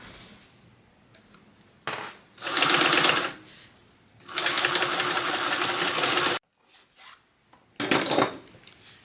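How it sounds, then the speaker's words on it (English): A sewing machine bastes the side seam of a bucket bag at a 3/8-inch seam allowance, running in several close, steady, rattling bursts separated by short pauses. "we're going to go and baste along the side at 3/8 of an inch seam allowance"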